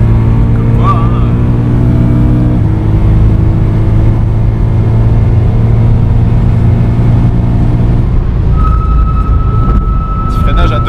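A BMW M3 drives on a race track, its engine droning steadily and loudly inside the cabin while people talk over it.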